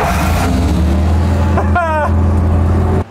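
Loud, close engine of an armored military vehicle at a suburban gas station, a steady heavy drone with a brief rising whine before it cuts off abruptly near the end.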